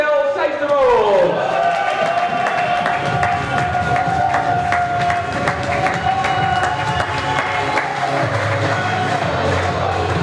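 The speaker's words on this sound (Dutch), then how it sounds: "Een groot applaus voor Michel Seijsterwold." Crowd cheering and applause greets a finalist at the Dutch sandpaper championship (NK Schuurpapier), a loud, sustained roar of clapping and shouts with music swelling underneath throughout.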